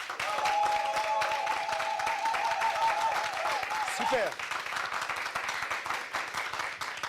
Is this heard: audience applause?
yes